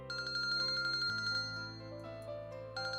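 A phone ringtone from the visual novel Kinkoi: Golden Loveriche chimes as a bright, clear melodic tune with steady sustained tones, playing alone for about three seconds.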